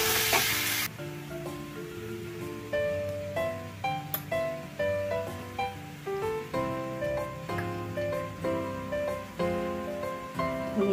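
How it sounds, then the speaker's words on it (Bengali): Tomato paste fries with ginger and garlic in a pan, a steady close sizzle under a bright musical backing that carries on throughout, with no voices. "টমেটোটা পেস্ট করেছি, এটা এর মধ্যে দিয়ে দিচ্ছি। একটু ভেজে নিই"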